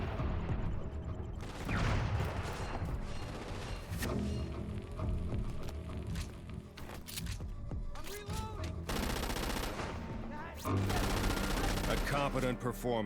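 Submachine gun fire in the Xbox 360 game Crackdown 2, dense rapid bursts crackling one after another with brief gaps, loud and close, mixed with game effects and occasional speech.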